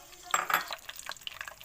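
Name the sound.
frying nuts in melted ghee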